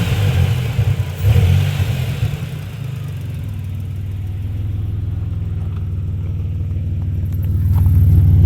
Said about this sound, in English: Muffler's kind of blowing up though, isn't it?